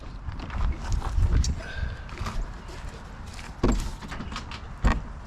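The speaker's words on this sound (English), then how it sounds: "See what I'm doing here is latching my doors." Wooden shed doors being latched outside a building where an old Kubota mower is stored, giving a few sharp knocks and clacks among footsteps and rustling, with two distinct latch impacts near the end.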